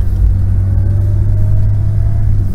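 A 1991 Ford Explorer with an A4LD automatic transmission drives in first gear, giving a steady low engine rumble with road noise, heard from inside and fairly loud, with no talk.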